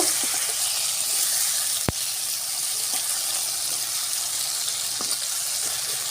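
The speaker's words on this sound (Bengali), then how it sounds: "টমেটোগুলো একটু ভেজে নিব দেখতে পারতেছো আমার টমেটো ভাজা হয়ে গেছে" Tomatoes fry in a pan for a village-style tomato bharta, making a constant loud sizzle with one sharp clank and a few faint taps.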